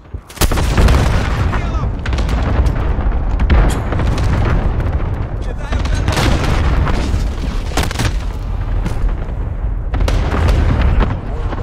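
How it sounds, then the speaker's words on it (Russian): Dense, continuous barrage of booming explosions from a cluster bombardment in Call of Duty Modern Warfare (2019) on PC, Suldal Harbor map, team deathmatch; loud overlapping blasts roll on without pause for the whole stretch. "Союзник начинает кластерную бомбардировку."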